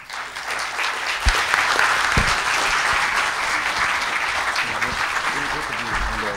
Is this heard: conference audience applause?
yes